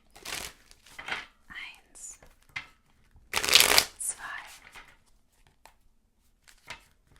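Tarot cards being shuffled in several short riffling bursts, close by, with soft whispered speech and pauses between shuffles.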